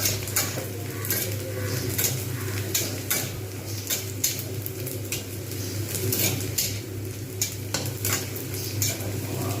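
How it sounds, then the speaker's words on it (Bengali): Onions frying in a pan for a Bengali fish-roe fritter curry, a steady close sizzle broken by repeated scraping and clinking of a utensil against the pan. "ঠিক এইভাবে আমি পেঁয়াজগুলো ভেজে দিলাম"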